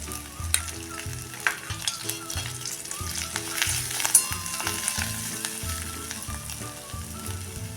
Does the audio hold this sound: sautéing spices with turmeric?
yes